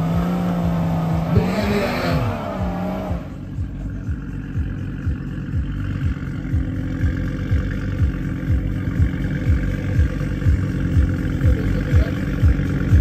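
BMW 330i F30 and Audi RS3 launch in a quarter-mile drag race: after a brief rising engine note, a steady loud rumble of engines and passing cars continues throughout, with no talk.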